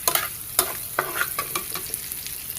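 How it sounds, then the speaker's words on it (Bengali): Garlic and onion fry in a pan for a leafy-green dish, a steady close sizzle broken by sharp scraping stirs at irregular intervals, with no voices. "শাকটাকে আমরা দেওয়ার আগে আপনার রসুন এবং পেঁয়াজটাকে সুন্দর করে একটু সময় নিয়ে ভেজে নেব"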